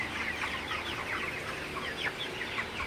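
A flock of broiler chickens on a farm clucks and cheeps continuously, many overlapping calls at moderate distance, fairly quiet and with no talking.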